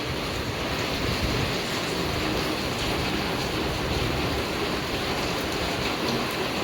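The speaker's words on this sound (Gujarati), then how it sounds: "મસ્ત વરસાદ આવી રહ્યો છે" Rain pours down in a dense, constant broadband rush, close and loud, mixed with gusty wind buffeting the microphone throughout.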